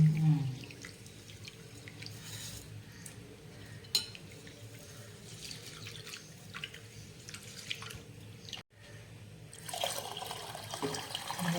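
Water trickles and drips into a metal pot close by while cooking pongal, with occasional clinks of cookware in a quiet kitchen.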